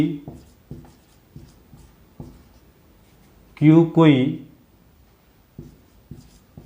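Writing during a Class 10 maths lesson on real numbers: short, scratchy strokes come in intermittent bursts, with a voice speaking briefly partway through.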